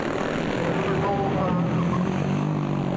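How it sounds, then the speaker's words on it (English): Supermoto motorcycles race into the first turn at a 2009 street-racing event in Paeroa, their engines making a dense, continuous roar that stays loud and steady throughout. "This big field of super motard bikes head down into turn 1 once again."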